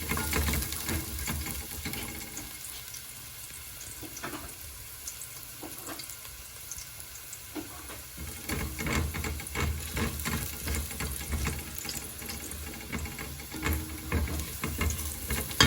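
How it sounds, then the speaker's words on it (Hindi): Chopped garlic frying in heated cooking oil on a gas stove turned to high, a steady loud sizzle with scattered clatters of stirring, running on its own without any talk. "So now we're adding 1 tablespoon of garlic to the cooking oil once it's heated up."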